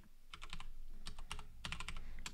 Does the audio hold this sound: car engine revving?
no